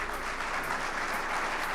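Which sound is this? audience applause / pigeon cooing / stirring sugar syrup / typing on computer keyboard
audience applause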